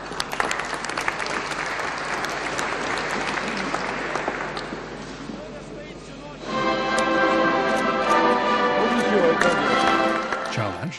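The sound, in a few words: applause from guests at award ceremony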